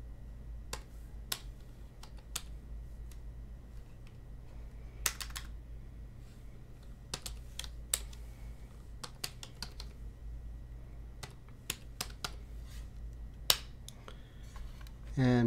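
A password being typed on a computer keyboard, sharp irregular key clicks spread across the span over a steady low hum, close and fairly clear, ending with a louder thump.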